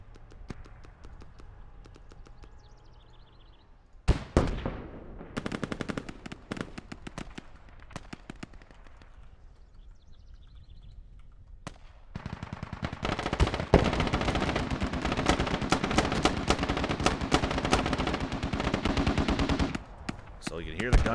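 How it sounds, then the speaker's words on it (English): Gunfire crackles through a competitive team match in a military video game on the Logar map, with rapid automatic bursts and single shots, sparse at first, then dense and sustained near the end. "So you can hear the gunfire, the vehicles,"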